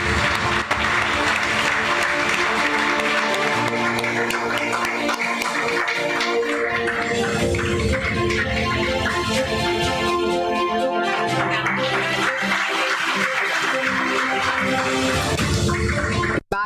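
Applause from the audience at a long service award ceremony, continuous and fairly loud, mixed with sustained musical tones playing over it the whole time.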